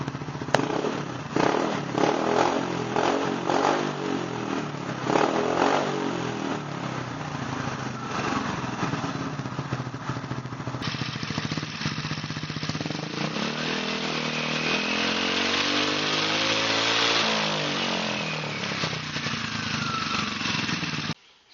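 A GY6 scooter engine fitted with a new performance carburetor runs alone with a steady, buzzy, clattering putter that rises and falls as the throttle is worked, then cuts off abruptly at the end.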